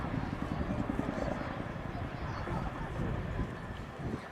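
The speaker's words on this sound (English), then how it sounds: "The 27th Squadron team are proud to bring you the Chinook display" A Chinook twin-rotor helicopter flies an air display at the Dunsfold Wings and Wheels show, its rumbling rotor chop steady and fairly loud throughout, with an announcer's amplified voice talking over it.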